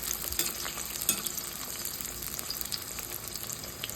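Eggplant pieces fry in hot oil with a dense, continuous sizzle and crackle, close and fairly quiet, with soft stirring noises mixed in.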